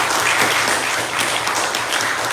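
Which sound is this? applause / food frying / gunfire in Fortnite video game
applause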